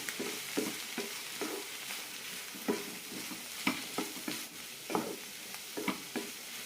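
Grated coconut is stirred and sautéed in a hot pan for a bottle gourd chutney, giving a soft frying sizzle under repeated scraping strokes of a spoon at an uneven pace, close by and without talking.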